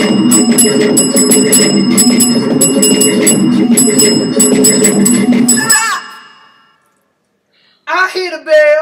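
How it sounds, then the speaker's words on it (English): A bell rings loudly in bright repeated strikes for about six seconds, then fades to silence before a voice speaks briefly near the end. "I hear the bell."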